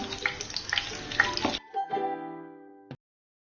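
Dry red chillies, curry leaves, mustard seeds and cumin crackle and sizzle in hot oil for a tempering, with stirring clatter and pops, then the frying cuts off, leaving a fading ringing tone and a final clink.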